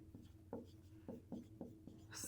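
Marker or chalk writing on a board during a math lesson: a series of short rhythmic scratchy strokes, close and quiet, ending in a brief brighter swipe.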